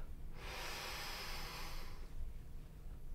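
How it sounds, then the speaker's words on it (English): A single deep inhaled breath, close and airy, rising over about a second and a half before fading out into quiet room tone. "just take in a nice big deep breath"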